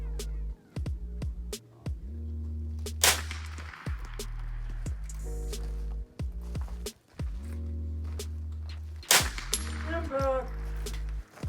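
.22LR rifle shots and steel target hits at a precision shooting match: sharp, sudden cracks with ringing metallic tails, heard over a steady low hum and occasional muffled clunks.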